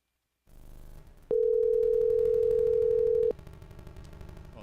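A telephone handset gives a steady electronic line tone for about two seconds after some brief clicks and low handling noise, loud and close, with no talking.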